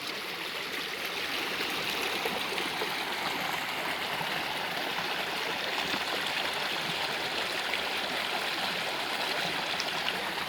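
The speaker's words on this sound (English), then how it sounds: "There is the waterfall there." Steady rushing water fills the scene, a continuous splashing roar of a waterfall feeding a stream, close and unbroken.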